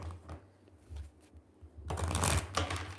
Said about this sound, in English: I'm just going to shuffle it again because I feel like I need to.